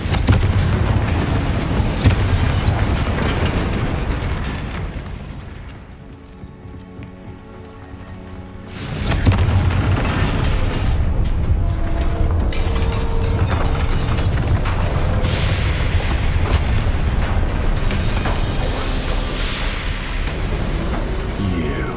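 Confringo fire spell explosion in the Hogwarts Legacy video game: a loud sustained roaring blast that fades into a brief hush, then surges back as a broad rumbling wash of noise.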